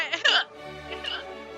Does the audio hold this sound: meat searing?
no